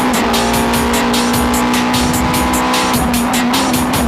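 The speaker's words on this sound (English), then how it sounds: "Here's a braking battle." Supra race cars at a JGTC circuit roar loudly, holding a steady strained engine tone with a rapid pulsing rasp throughout, close and continuous, with no talk.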